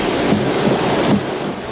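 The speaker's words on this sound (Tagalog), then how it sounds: "Sa lakas ng buhos ng ulan," Heavy overnight downpour during flooding, a dense, steady roar of rain close to the microphone with no voices, heard alone.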